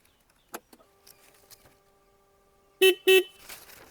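Horn of a 2026 Hero Xoom 160 scooter, two short loud tonal honks in quick succession near the end, preceded by faint clicks and a quieter thin electronic tone.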